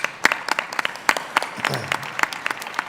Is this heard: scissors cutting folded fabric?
no